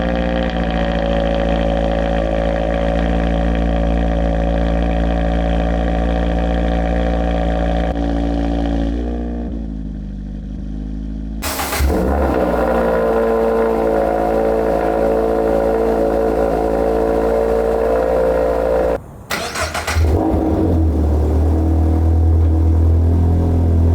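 A Subaru BRZ / Toyota GR86 engine fitted with an aftermarket Juice Pipes exhaust drones steadily and loudly at idle and low revs, with sudden blips near the middle and again toward the end, no voices present.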